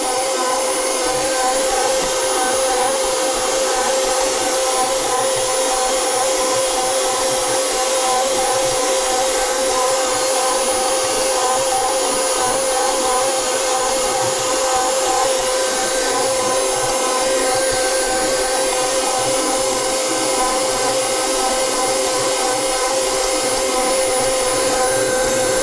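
A KitchenAid Pro 600 stand mixer kneads bread dough with a steady, loud motor whine and churning hum that holds constant and unbroken throughout, with no talking over it.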